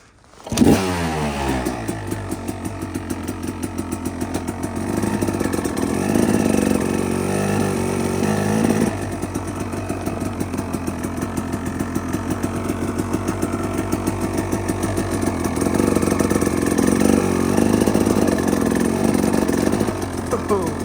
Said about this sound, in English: Back tire's just spinning.